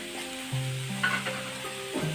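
Sliced sour tomatoes hit hot oil in a wok and sizzle steadily as they are stir-fried for a northern Thai jackfruit salad, a close, continuous frying hiss.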